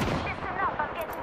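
Gunfire in the battle royale game Apex Legends, a short burst of rapid shots over a noisy mix of game effects, with a voice murmuring faintly beneath.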